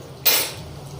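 A spoon strikes a pan once while stirring cumin seeds for kachori, a single sharp metallic clink that rings briefly and fades within a second.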